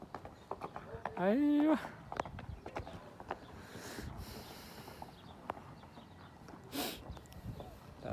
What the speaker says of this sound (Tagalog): Ay, kabayo. Ayun o.